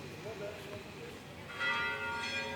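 Church bells ring out in the town of Pézilla-de-la-rivière, their bright tones swelling partway through over quiet street ambience.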